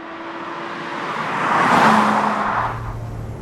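A Porsche Boxster 986 with its 2.7 flat-six mounted behind the cabin drives on a road, its engine note swelling to a loud peak midway as it passes close, then easing back toward a lower hum.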